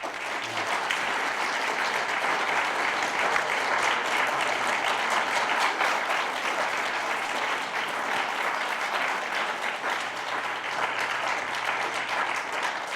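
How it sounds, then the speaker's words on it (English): Lecture audience applauds after a statistics talk, a sustained, even wash of clapping that lasts about thirteen seconds without pause at moderate loudness. "what I'd like you to do is a round of applause to Toby for a wonderful lecture this evening"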